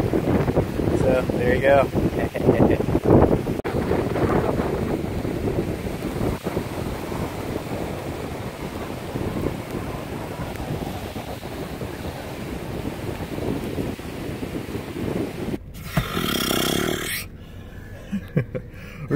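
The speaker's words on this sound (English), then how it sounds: "Checking out the waves" Ocean waves crashing by a pier in rainy weather at St. Augustine, with heavy wind buffeting the microphone, loud and continuous, and someone briefly speaking near the end.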